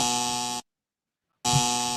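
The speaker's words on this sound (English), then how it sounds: "Can we just run the buzzer on this?" A harsh electronic game-show buzzer blares twice, each blast loud and steady with a rich buzzing tone, separated by a gap of silence.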